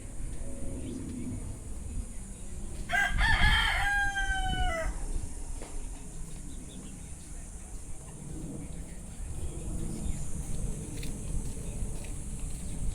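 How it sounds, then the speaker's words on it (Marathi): A village rooster on a farmhouse in Badlapur gives one loud, close cock-a-doodle-doo lasting about two seconds, with low background murmur and faint talk around it. "आणि हा गावटी कोंबडा"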